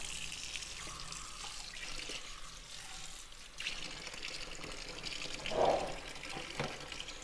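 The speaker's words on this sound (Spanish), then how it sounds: "Iremos enjuagando el émbolo," Juicer extractor parts, including the plunger and lid, rinsed under a running kitchen tap, with a steady wash of flowing water and a brief louder splash near the end.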